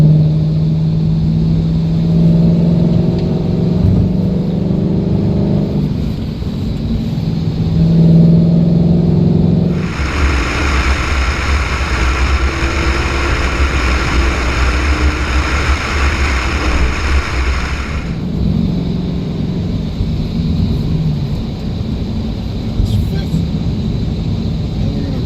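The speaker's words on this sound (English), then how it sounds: "Downshifting, so we made all the way up to 5th gear." A 2018 Ford Mustang 5.0 V8 pulls up through the gears toward fifth, its engine droning and rising in pitch across several shifts, with a louder, harsher roaring stretch in the middle, recorded from inside the car.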